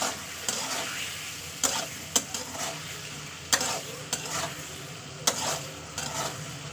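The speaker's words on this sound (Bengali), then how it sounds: "আদা রসুনটা দেওয়ার পর ভালো কষিয়ে নেবো তেলের উপরে" Ginger and garlic paste stir-fried in hot oil with fish in the pan for a spicy loitta fish curry, a steady soft sizzle broken by repeated sharp scrapes and clacks of a spatula against the pan, close and alone.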